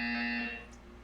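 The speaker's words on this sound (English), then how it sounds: "When you hear the buzzer, stare at the art." Portal 2 buzzer in a video game: a single loud, steady electronic tone lasting about half a second, then fading into a faint hum.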